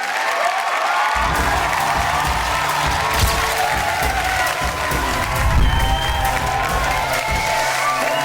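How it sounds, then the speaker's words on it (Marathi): A television show audience breaks into loud, sustained applause with cheering and whoops, a dense crowd clapping that carries on steadily, with voices mixed into the noise. "एकदा जोरदार टाळ्या झाल्या पाहिजेत."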